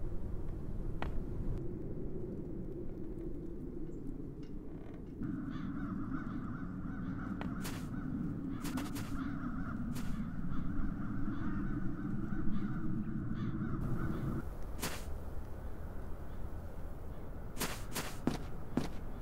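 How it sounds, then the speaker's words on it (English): In the adventure game The Dark Eye: Chains of Satinav, crows caw repeatedly over a steady low ambient drone, the calls coming in uneven bursts alongside sharp clicks and footstep-like taps. "Those peculiar crows."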